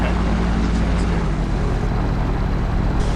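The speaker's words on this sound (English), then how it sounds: "we just wait here now for probably 5 minutes or so for the engine to get up to operating temperature" A gyroplane engine idles steadily while warming up, giving a loud, constant droning hum with an even tone and no pauses.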